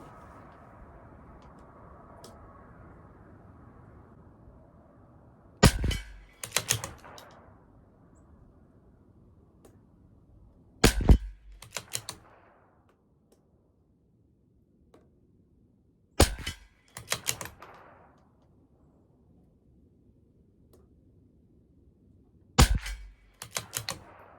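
A CZ 457 LRP rifle at a 50-yard long-range match fires a five-shot group, each sharp crack followed closely by a second report, spaced several seconds apart against a quiet background.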